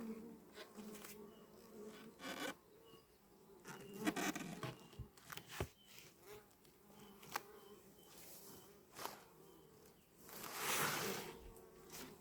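Honeybees hum and buzz around an open hive during a three-week inspection, a steady close drone with swells as the bees stir, mixed with light handling knocks and scrapes.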